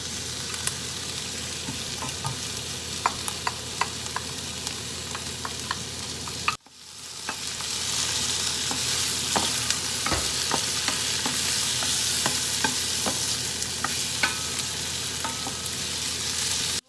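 Miso, onions and tomatoes sauté in a pan under a steady sizzle with scattered clicks of stirring; midway a brief cut is followed by a louder, fuller hiss as frying continues.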